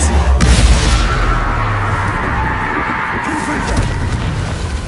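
The Descendo spell slams down in Hogwarts Legacy, a heavy crashing boom near the start that rolls into a loud, sustained rumbling clatter, with faint speech underneath.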